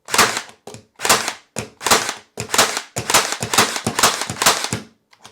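Metabo HPT 18V 18-gauge narrow crown stapler firing staples in sequential mode, about a dozen sharp snapping shots in quick succession, loud and close, with a faint mechanical rattle between them.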